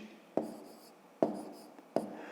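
Numbers written by hand while working a fifth-grade subtraction problem, heard as three short, crisp pen strokes spaced under a second apart, close and fairly quiet, with no talking.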